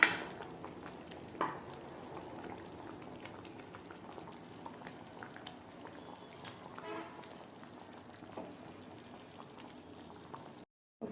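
A stuffed brinjal and paneer curry gravy simmers in a pot, its quiet soft bubbling running on steadily with a couple of faint utensil clinks.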